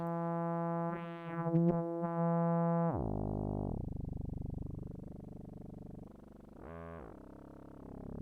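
Self-oscillating tones from a Dreadbox Eurorack module with an LFO ramping up the feedback: a steady buzzy harmonic drone that bends and sweeps, then drops into lower growling, shifting pitches, loud and alone.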